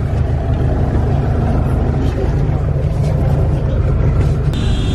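Riding inside a crowded tap tap in Haiti, a loud steady engine roar and road rumble fill the cabin throughout, with faint voices underneath.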